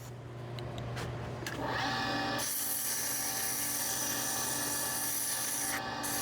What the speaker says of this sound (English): now we need to sand these down a little bit. So we're just gonna start with some 240 sandpaper